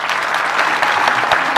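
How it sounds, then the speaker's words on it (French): Hearty applause fills the hall at a bar association's inauguration ceremony in Lualaba, a loud, sustained crowd clapping with no break, close and full. "je voudrais vos applaudissements nourris"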